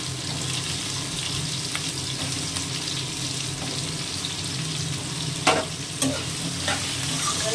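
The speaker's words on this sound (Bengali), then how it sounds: "এবারে এটা একটু ভাজা ভাজা হবে।" Potato and eggplant frying in a pan give a constant, even sizzle, with a few clinking stirs toward the end.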